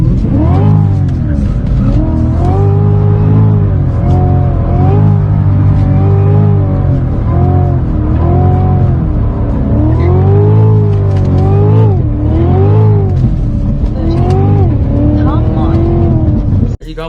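A Cadillac CTS-V drifts, its engine loud and close, revs surging and dipping in waves across the whole stretch, with tire noise underneath.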